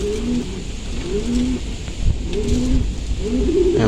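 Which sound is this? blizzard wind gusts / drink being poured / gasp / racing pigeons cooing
racing pigeons cooing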